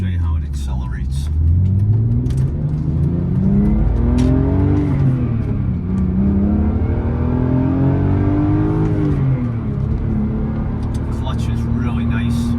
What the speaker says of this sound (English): I'll see if I can get on it a little bit, show you how it accelerates